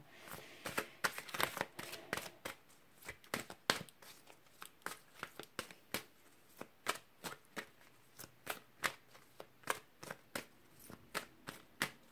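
Tarot cards being shuffled for a reading, a steady run of crisp riffling flicks and slaps repeating close up for the whole stretch, quiet and alone with no talking.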